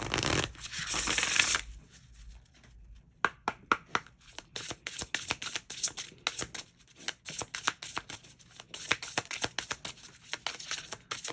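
Tarot cards being shuffled by hand, close up: a brief riffling burst, then a long run of quick, crisp card slaps and flicks in an uneven rhythm.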